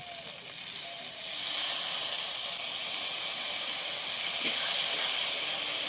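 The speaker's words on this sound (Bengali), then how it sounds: "হলুদ গুঁড়ো লঙ্কার গুঁড়ো দিয়ে কষিয়ে নেব" Turmeric and chili powder spice paste, with ginger, chili, cumin and tomato paste, sizzles steadily while frying, a loud continuous hiss that holds throughout with no talking.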